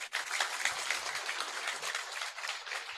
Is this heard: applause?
yes